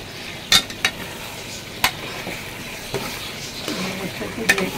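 Yogurt is stirred into hot oil for a mutton yakhni pulao: a soft sizzle under sharp, repeated clinks and scrapes of a spoon against the pot, spaced irregularly and close.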